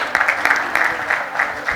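An audience at a closing ceremony claps in a brisk burst of applause, with sharp, rhythmic hand claps standing out over a lively crowd.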